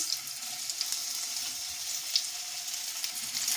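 Thinly sliced potatoes fry in hot oil, giving an even, continuous hissing sizzle with light crackles, close by and alone.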